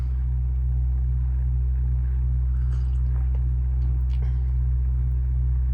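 A bus engine idles with a steady, heavy low rumble that holds unchanged throughout, with faint light clicks and rattles on top.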